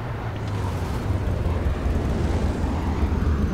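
An airplane flies overhead in the video game Dying Light The Following, a continuous low roar that swells slightly louder as it passes, with no talking.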